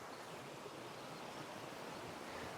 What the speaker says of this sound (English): Flowing water, the best way to put you to sleep